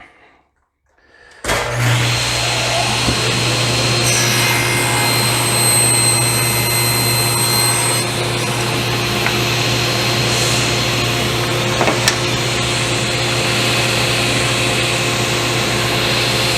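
A saw slices a thin piece off a workpiece guided by a miter gauge, roaring up suddenly and then running as a loud, steady, continuous whine with no talk.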